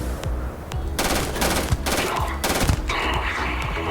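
Assault rifle fire in the Starfield video game, heard as rapid automatic bursts that crackle loudly over several seconds, separated by short pauses.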